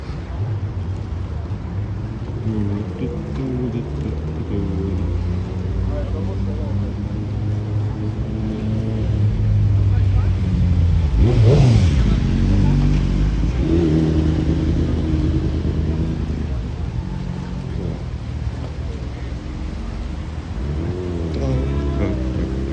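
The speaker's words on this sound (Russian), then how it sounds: "Смотрите, какой мотоцикл." A three-wheeled motorcycle's engine idles and revs on a Moscow street, rising to a louder burst midway, with someone talking intermittently over the steady city background.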